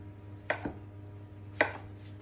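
A knife slicing through a loaf of bread, two crisp, close cuts about a second apart in a quiet kitchen with a low steady hum.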